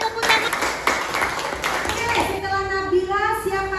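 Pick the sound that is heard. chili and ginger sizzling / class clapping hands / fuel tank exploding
class clapping hands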